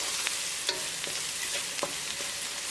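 Spices sizzle in a hot tadka for bison spaghetti, a steady broadband hiss with a few soft stirring clicks and scrapes scattered throughout, close and continuous with no talking.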